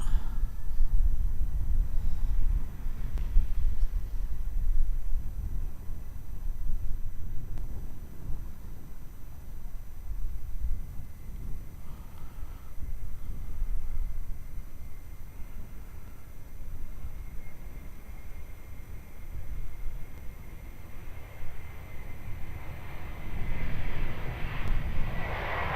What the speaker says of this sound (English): Qantas 37 getting ready to jet off to Singapore, and they are rolling.